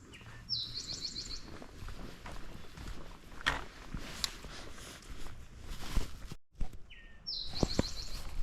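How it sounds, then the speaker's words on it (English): Scattered high bird chirps and short calls ring out in the morning woods along the Cantwell Cliffs trail in Hocking Hills, over a steady outdoor hush, with faint footsteps and rustling nearby. "You can hear the birds out here."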